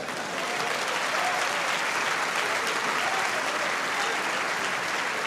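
Sustained applause from a church congregation, dense and steady throughout, close and loud with a faint murmur of voices underneath.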